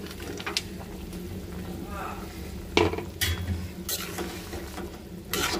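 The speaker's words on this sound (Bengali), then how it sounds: "এটার মধ্যেই এই মাছগুলো ঢেলে দিব সব। এই যে মাছটিও একটু কষিয়ে নিব।" Fish pieces sauté in a cooked spice paste for a bottle gourd curry, a steady sizzle with stirring scrapes and occasional clinks of utensil against the pan, a voice talking faintly at times.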